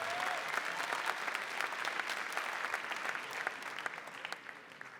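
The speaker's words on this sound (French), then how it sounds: "vos applaudissements. Rien qu'un petit peu d'applaudissements." Steady applause from spectators at a compound men's archery bronze-medal match in Nîmes, a dense wash of clapping heard from a distance at moderate level, continuing evenly with no talk over it.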